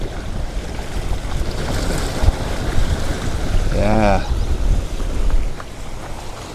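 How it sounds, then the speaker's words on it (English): Choppy harbor water on Lake Ontario splashes against the shore amid steady wind noise on the microphone. A brief rising tone sounds midway, and someone says a single word. "you can maybe hear the harbor splashing a bit here"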